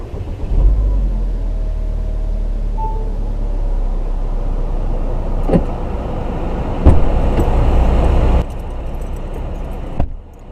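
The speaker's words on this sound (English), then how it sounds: "To activate it, you simply lock it and hold down the button. And on starts the car." A 2014 Chevrolet Equinox started by remote, its engine turning over and settling into a steady low idle rumble, with a few sharp clicks and clunks near the end as the idle continues.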